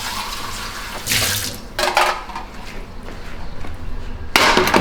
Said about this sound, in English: rinse it out, warm water, get all that Spam juice off the Spam